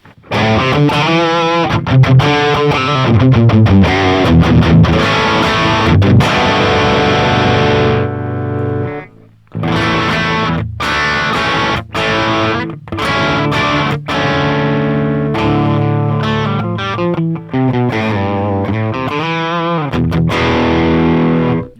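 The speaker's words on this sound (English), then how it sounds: "If you lower the output, you can get really cool saturated tones out of it" Heavily saturated, distorted electric guitar through an amp simulator at lowered output, playing continuous metal chords and riffs, loud and close, with brief pauses between phrases.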